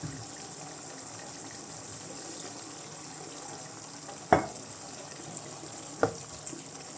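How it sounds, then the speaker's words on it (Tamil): Water pours in a soft, steady gush into a simmering tamarind curry with taro root, with two sharp clinks of a utensil near the end. "இந்த டைமில் கொஞ்சம் தண்ணியுமே வேணால் ஊற்றிக்கலாம் நம்ம"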